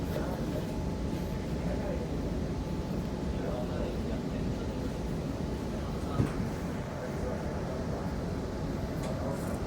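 Adelaide Metro A-City railcar 4026 running between Dry Creek and Adelaide, heard from on board as a steady, continuous low rumble and hum at a slow pace, with one brief knock partway through.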